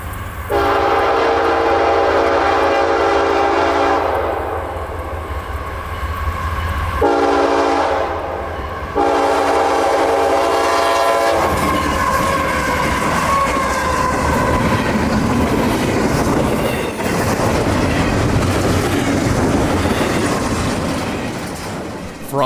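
A CSX intermodal freight train rolls past a dirt road private crossing, its horn blaring in long tones before the steady roar and rumble of the passing cars continues loud and close.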